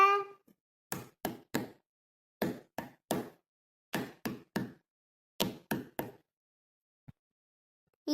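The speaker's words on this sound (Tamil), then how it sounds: "அந்த கதவை யாரோ ரொம்ப நேரமா தட்டுறவ பாரு" Someone knocks on a door in four quick sets of three sharp raps, separated by short pauses, with a brief voice at the start and end.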